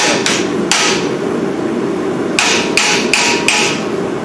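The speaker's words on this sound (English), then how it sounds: "I'm going to use that tool I just showed you, the ball peen, and I'm going to pin it down, pin the piece down with it." Ball peen hammer striking iron during forging of a blacksmith piece, pinning it down: seven sharp ringing metallic blows, three early and four later in a quick run, close and loud, with no talking.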